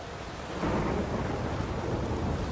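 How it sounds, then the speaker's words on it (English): Thunderstorm in the video game Witcher 3, heard as a dense wash of heavy rain and a deep rolling thunder rumble that swells after a brief quieter opening and keeps going, with no voices. "The storm, damn it."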